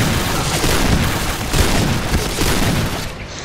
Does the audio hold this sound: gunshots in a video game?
yes